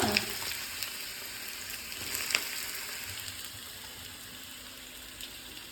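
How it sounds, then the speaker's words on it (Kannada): Potatoes frying in oil in a home kitchen pan, a steady bright sizzle with a few crackles and pops, close and fairly loud, gradually easing in intensity. "ಓಕೆ ಈ ಮಾಡಿ ಇಮಿಡಿಯೇಟ್ಲಿ ಫ್ರೈ ಮಾಡೋಕ್ಕೆ ಸ್ಟಾರ್ಟ್ ಮಾಡಿ"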